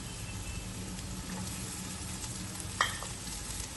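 Steady sizzling of whole garlic cloves frying in a pan, a constant hiss with a brief clink of a utensil near the end.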